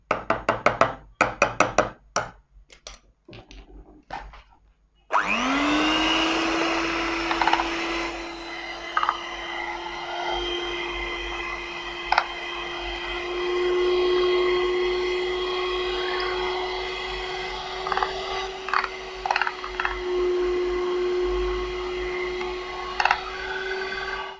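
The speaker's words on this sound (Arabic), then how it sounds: "نقلب بقى بالهاند بلندر" After a few seconds of sharp knocks and taps, a hand blender starts up and whirs steadily for the rest of the time, mixing a homemade vitamin C serum in a container, close and continuous.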